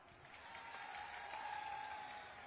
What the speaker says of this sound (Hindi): अरे सही है तो ताली बजाओ।